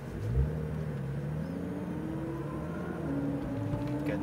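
Porsche GT3 RS pulling away slowly from the pits on a Las Vegas track, a steady low engine drone with a gentle rise in pitch as it gains a little speed, continuous and fairly close.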